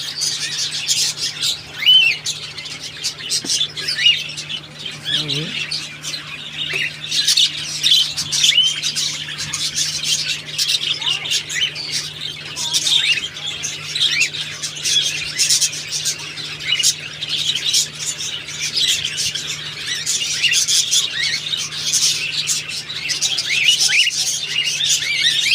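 A flock of breeding cockatiels chirping and squawking nonstop at close range, dense overlapping high calls with occasional louder squawks over a faint steady hum.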